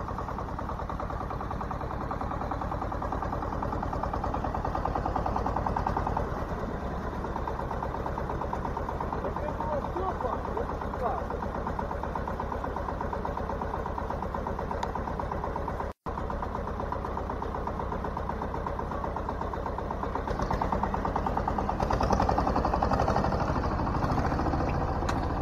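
A tractor pulls a heavy harrow without a front hitch, with the engine droning loudly and steadily at close range for the whole stretch and only a brief dropout midway.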